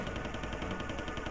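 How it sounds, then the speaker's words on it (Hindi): Rapid AK-47 automatic fire in an action film scene of a terrorist attack on the Taj hotel, a fast, even burst of shots rattling continuously, somewhat distant and muffled. "AK-47 की दहाड़ों से गूंज रही है।"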